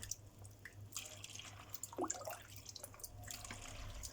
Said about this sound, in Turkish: Hemen karıştırdım güzel bir şekilde yavaş yavaş kepçemle bidonuma ekliyorum.